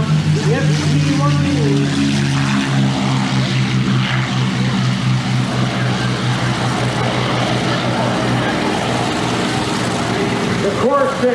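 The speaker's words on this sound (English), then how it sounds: "And another great Navy airplane that we're pulling the wings on, the F4U." A Vought F4U Corsair propeller fighter flies past at an airshow, its loud radial engine drone steady and close throughout with a shifting throaty roar, an announcer's voice faintly present beneath.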